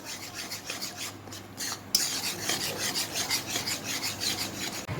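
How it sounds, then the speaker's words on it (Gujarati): Semolina (rava) frying in a pan as a utensil scrapes and stirs it continuously, a steady gritty rasping that runs on without pause, close by and moderately loud. "તમે જોઈ શકો છો કન્ટિન્યુઅસલી તમારે આ તબેતો ચલાવતા રહેવાનું છે."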